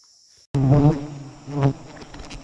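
Bees at a nest being cut, buzzing loudly and close in two swelling bursts after a brief quiet start, with a steady faint high whine underneath.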